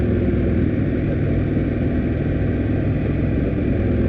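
An Indian Scout Bobber motorcycle exhaust running steadily at idle, a continuous low, flat rumble heard close and alone, with no loud deep pops or surges.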